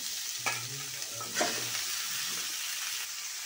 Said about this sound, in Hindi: मैं सलगम को डाल देती हूँ।